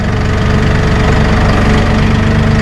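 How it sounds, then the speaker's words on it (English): A Massey Ferguson 1840E hydrostatic compact utility tractor with a loader and a 39.4 hp engine runs while the loader is raised. The engine drones loud and steady at close range, with a low, even throb. "We're going to raise our loader."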